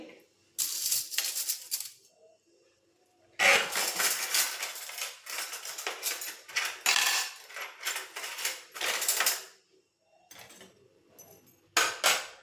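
Metal spoons set one after another into the slots of a kitchen cutlery tray, small spoons in one section and large in another, giving bright clattering clinks in bursts with short pauses, close and fairly loud.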